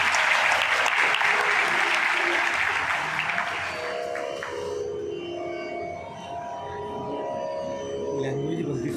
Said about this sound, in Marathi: आणि आत्ता ज्यांनी उत्कटपणे इतकं भरभरून बोलले त्यांच्यासाठी एकदा टाळ्या वाजवा